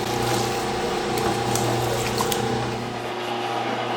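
Cold water is poured into a sausage mix, a steady rushing, splashing flow that lasts for several seconds and eases off near the end, with no talking.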